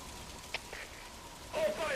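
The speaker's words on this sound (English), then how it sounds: "Now it's started to rain." Steady rain in Metal Gear Solid V: The Phantom Pain, a soft continuous patter with a few faint drop clicks and a slight swell near the end.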